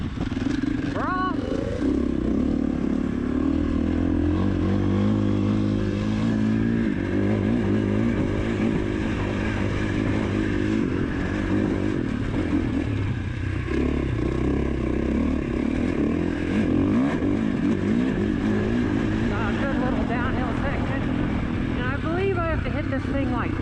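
A motorcycle's engine roars continuously as it accelerates, with pitch sweeps as the gears change and heavy wind buffeting throughout, while a rider talks over it.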